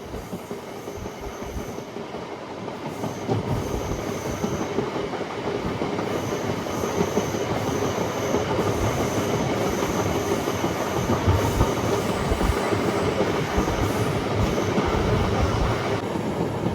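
MEMU passenger train running from Bhimavaram Junction toward Nidadavolu in the Godavari district, a steady loud rumble of wheels and carriage with rhythmic clickety-clack throughout, no talk.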